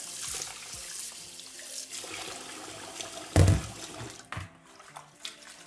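Running tap water splashes and trickles in a sink as rice is briefly rinsed, soft and close, with a sudden louder gush midway and scattered small clatters.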